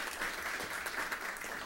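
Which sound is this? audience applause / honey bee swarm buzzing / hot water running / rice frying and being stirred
audience applause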